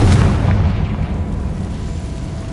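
A Confringo blasting spell goes off in Hogwarts Legacy, a loud, deep boom up close that hits at once and then rolls off into a long, rumbling low tail.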